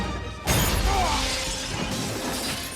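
Blast-proof glass shattering as a body is thrown through it in Stargate SG-1, a sudden loud crash followed by a long, dense spray of tinkling shards and debris.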